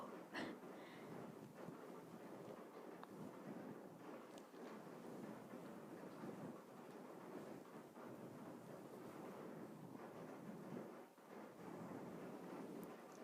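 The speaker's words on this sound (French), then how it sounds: "Je sais pas si vous entendez la pluie, mais c'est vraiment horrible." Heavy rain falling outside, a steady broadband wash that runs unbroken and fairly loud through the whole stretch with no speech over it.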